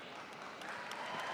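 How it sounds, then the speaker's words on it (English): Seminar audience giving a round of applause for a top sales director, a soft, even patter of clapping from a crowd, fairly faint and brief. "That deserves an applause."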